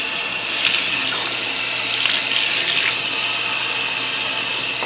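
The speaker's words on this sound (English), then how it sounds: "So let me just try cleaning this off using hot water" Hot water runs steadily from a tap into a sink, rinsing oil off a surface, with a close, loud splashing hiss and a few brighter spatters as the stream is disturbed.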